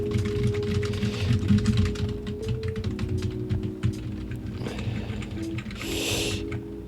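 Rapid clicking keystrokes on a gaming computer keyboard, close and fairly quiet over a low steady hum, with a brief louder burst near the end.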